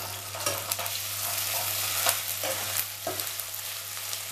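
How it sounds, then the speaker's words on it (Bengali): Onions fry with ginger paste in a pan for a cauliflower and prawn curry, a steady close sizzle punctuated by several scraping stirs of a spoon over a low hum. "তো আমি এটা একটু ভাজা ভাজা করে নিচ্ছি। এর মধ্যেই আমি দিয়ে দেব আদা বাটা।"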